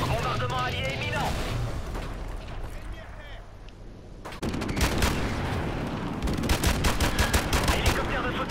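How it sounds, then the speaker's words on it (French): Allied bombardment in a Call of Duty-style shooter: rapid, loud, crackling volleys of explosions and gunfire keep hammering throughout, easing briefly before a sharp renewed barrage, with voices speaking under the din. "Bombardement allié imminent."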